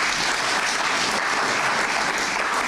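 A crowd applauds steadily and loudly at a ceremony honouring a former COSAFA Secretary General from Botswana, a dense wash of clapping hands that holds unbroken throughout with no voices over it.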